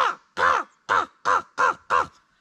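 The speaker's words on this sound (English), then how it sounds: "The crow, like jungle crow, it makes a call." A jungle crow gives a series of six harsh, loud caws in a steady rhythm, close and clear with short silent gaps between calls.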